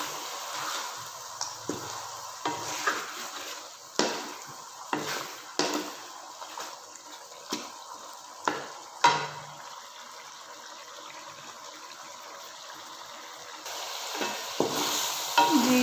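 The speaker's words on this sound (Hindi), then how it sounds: "अब हम इसको ऐड करते हैं और अच्छी तरह से मसालों को मिक्स कर लेते हैं।" Chicken and spices stirred in a sizzling pot for pulao, a steady frying hiss broken by repeated sharp scraping strokes of the spoon against the metal, close and alone with no talk.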